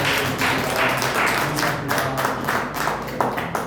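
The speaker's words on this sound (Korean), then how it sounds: "박수로 다시 한번 감사합니다" Congregation clapping in thanks at a Korean church service in Mexico, a fairly close, uneven patter of many hands with some rhythmic beats, no talking.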